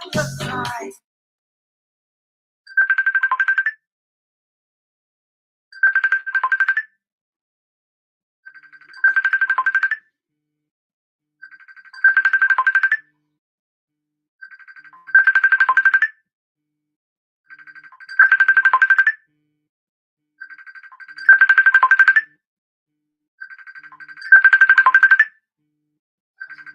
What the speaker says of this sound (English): Almost 7 different telephone ringing.